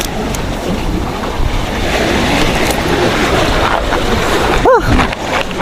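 Ocean waves wash and surge around a small fishing boat at sea after a storm, a steady broadband roar with wind buffeting the microphone, and a brief squeal near the end.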